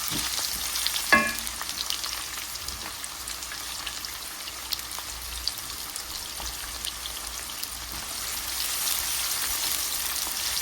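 Chopped garlic and onion frying in hot oil for a chicken giblet and liver dish, a steady close sizzle with one brief clank early on and the hiss building slightly toward the end, no voices.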